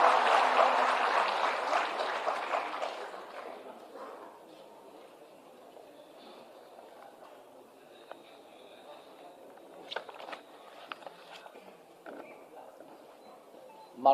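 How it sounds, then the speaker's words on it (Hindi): Audience applause welcoming the energy minister at a government ceremony distributing appointment letters to special teachers, a loud burst of clapping that fades within a few seconds into a quiet hall with scattered small noises. "जोरदार तालियों से स्वागत करें माननीय का"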